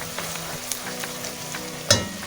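A spoonful of garlic frying in a pan while making stuffed cabbage, a steady soft sizzle with faint stirring scrapes and one sharper clink near the end.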